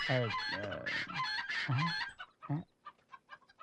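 Excited hens clucking and squawking loudly and close by, a rapid string of harsh calls that thins into shorter, quieter clucks toward the end.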